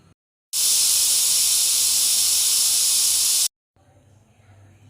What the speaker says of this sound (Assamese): এনেদৰে এটা কুকাৰত দি 6-7টা হুইচেল মাৰি ল'ম।